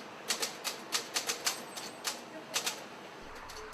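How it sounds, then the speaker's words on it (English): Rapid keystrokes on an old manual typewriter, a quick irregular run of sharp clacks grouped in short bursts, fairly close and alone with no talk. "he pecks out a one-page newsletter on an old typewriter"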